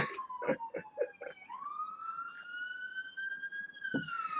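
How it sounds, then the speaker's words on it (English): An ambulance and fire truck pass on a city street, their sirens sweeping in a long rising-and-holding wail at moderate distance, with scattered clatter and faint background noise at the start and end. "And there goes the ambulance. And the fire truck."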